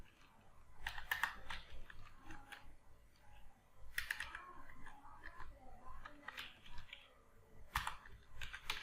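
Computer keyboard typing while writing a job proposal, quiet bursts of clicking keystrokes in irregular clusters, close and soft against a low room hush.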